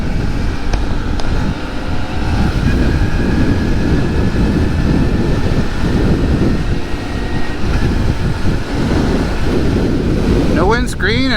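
Steady, heavy wind roar buffets the microphone on a Honda Monkey motorcycle with no windscreen, ridden at about 47 in sub-freezing weather; the loud, continuous rush persists throughout.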